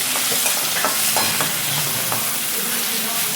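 Chopped tomato and onion fry loudly in oil in a kadhai for bitter gourd sabzi, a constant close sizzle broken by scraping stirs of a spatula against the pan, no talking.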